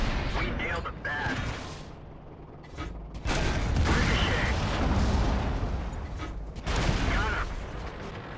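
Light tank firing at enemy tanks in World of Tanks, with loud creaking tracks, mechanical clatter and cannon shots over a steady battle din, someone narrating throughout.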